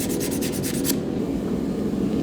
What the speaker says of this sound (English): I use a sandpaper to slightly touch the face of the hammer so that I can see bare steel